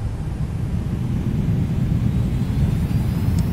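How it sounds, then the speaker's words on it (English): A Boeing 757 freighter in the X-Plane 11 flight simulator deploys its thrust reversers after touching down at Leipzig, giving a loud, steady, broad roar with a low rumble throughout. "Reversers, goes down gently."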